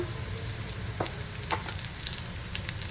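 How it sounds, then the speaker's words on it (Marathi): Curry leaves hit hot oil for a fast, loud sizzle, with sharp spitting crackles and pops scattered over a continuous hiss. "कढीपत्ता घालायचा"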